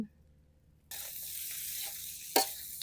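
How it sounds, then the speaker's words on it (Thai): Rice tipped into a hot pan for fried rice with omelette bursts into a loud, steady sizzle after a quiet start, hissing broadly with a sharp stirring scrape near the end; no one speaks. "เทข้าวลงผัด"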